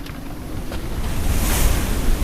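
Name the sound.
wind and ocean waves around a sailboat at sea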